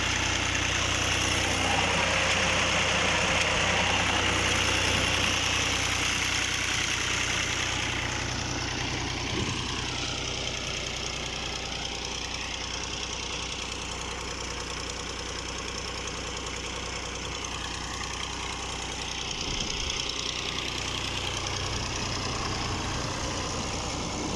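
A 2020 Fiat 480 tractor's diesel engine runs at a tubewell, a steady close knocking drone that holds without a break from start to end.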